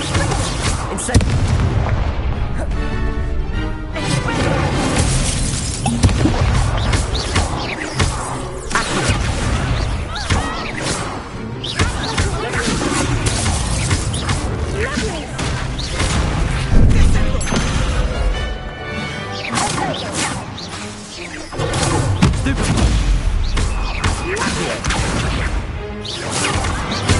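Hogwarts Legacy duel with spells cast in rapid succession, dense booms, blasts and whooshes piling up continuously, loud and busy, a voice calling spell names mixed in among the effects.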